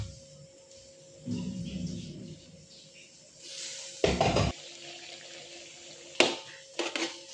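Water running from a kitchen tap, a steady hiss of flow lasting about a second before stopping, followed by a few sharp clatters and bumps nearby; fairly quiet overall with no talk.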